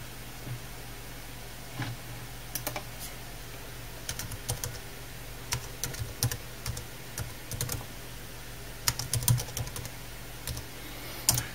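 Fingers typing on the keyboard of an older Compaq V6000 laptop, soft irregular key clicks in short bursts and scattered taps over a faint steady hum, close and quiet, with no talking.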